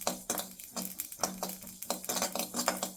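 Spices dry-roasting and being stirred in a pan for a festival saaru, with repeated scraping and rattling strokes in an uneven rhythm, close and fairly quiet, with no talking.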